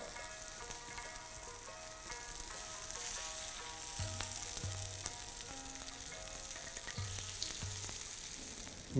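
Steamed lauki kofta shallow-fry in oil with a steady, close sizzle, broken by a few light stirring clinks.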